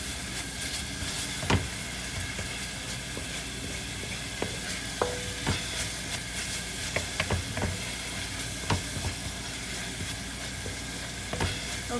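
Coconut jaggery filling for modak sizzles steadily in a pan as ghee is stirred in, a constant frying hiss with a few soft spoon scrapes and taps, close by and without speech.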